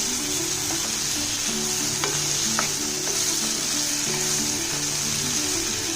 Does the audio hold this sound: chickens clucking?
no